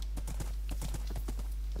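Donkey hooves clip-clop in a rapid, even trot within a video game, crisp close hoofbeats over a steady low hum.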